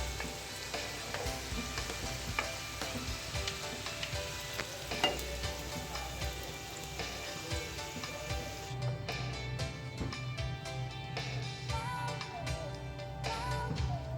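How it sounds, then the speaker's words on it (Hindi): Potato snacks frying in hot oil make a soft, continuous bubbling sizzle, fairly quiet and steady throughout, with occasional faint crackles and light clicks over the hiss. "बाकी के स्नैक्स भी हम फ्राई कर लेते हैं इसी तरीके से।"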